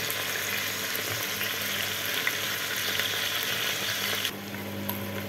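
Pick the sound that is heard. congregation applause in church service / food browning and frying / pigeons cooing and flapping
food browning and frying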